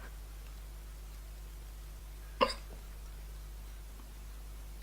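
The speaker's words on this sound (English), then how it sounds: "I have the hiccups, sorry if you can hear them." A single hiccup, short and fairly near, standing out once against a quiet room with a steady low hum underneath.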